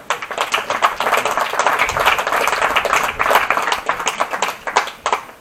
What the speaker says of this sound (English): please give a round of applause for your 8th place finisher, Mr. Zach Morris.